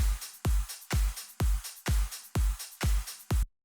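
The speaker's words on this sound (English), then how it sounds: "And then the fatter clap snare sounds like this." A fat clap snare drum sample sounds eight times in a steady, evenly spaced rhythm, each hit a loud, punchy burst with a short decaying tail, alone and close.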